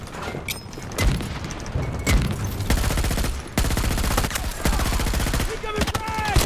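Video game gunfire from an MTAR build rattles in repeated bursts of rapid automatic shots with heavier booms between them, loud and close, with a player's voice breaking in briefly.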